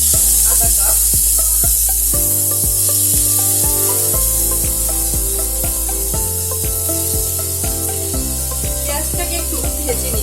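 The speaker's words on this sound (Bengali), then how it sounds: "পেঁয়াজটাকে একটু ভেজে নিব।" Half a cup of chopped onion frying in two tablespoons of hot oil in a pot, a loud continuous sizzle with stirring scrapes, close and alone throughout, for a chicken chap dish.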